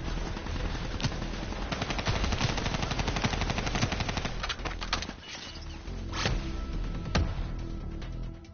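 Sustained automatic gunfire aimed at a cooling tower in Black Ops III, dense rapid shots rattling continuously with a few sharper cracks standing out, fairly loud against a busy battlefield background.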